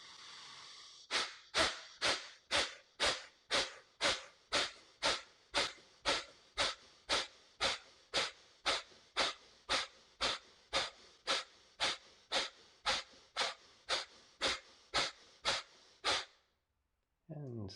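Deep rhythmic pranayama breathing during a yoga session, about thirty sharp, evenly spaced forceful breaths close to the microphone in a steady pulse, ending abruptly in brief silence.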